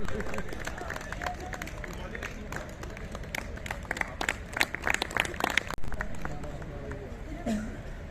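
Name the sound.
loud applause from the audience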